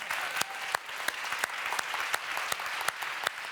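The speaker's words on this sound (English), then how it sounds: "so I'd like to clap for them" An audience at a debate claps for the winning team, a steady mass of hand claps with a few sharp individual claps standing out, moderately loud and unbroken.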